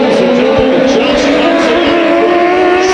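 Race cars roar off at the green flag, a loud, steady, layered engine drone filling every moment under a commentator's excited voice.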